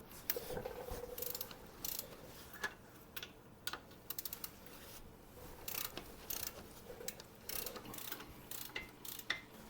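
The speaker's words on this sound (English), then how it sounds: "But now we've got to take off these 4 flange bolts." A wrench works loose the flange bolts on a Jeep JK axle during a wheel bearing and seal job, giving faint, intermittent bursts of ratcheting clicks and metallic taps with short pauses between them.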